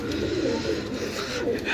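Pigeons offered for sale coo steadily up close, a continuous low burbling chorus from several birds with no one speaking.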